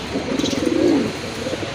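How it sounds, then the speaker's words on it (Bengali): A pair of deep red Raj Golla pigeons gives a brief, close, rolling coo that swells and fades within a couple of seconds. "এখানে এক জোড়া রাজগোল্লা কবুতর আছে, টকটকে লাল কালারগুলো"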